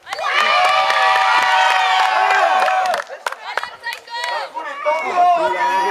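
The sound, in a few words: wrestling crowd cheering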